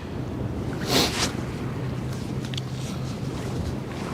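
Blustery, chilly wind buffets the microphone with a low rumble on the Westerschelde shore in the Netherlands, a brief louder gust early on, and a distant steady hum beneath.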